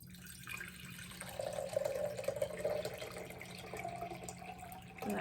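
Water pours steadily into a container for floating candles, a soft continuous trickle lasting several seconds before tapering off.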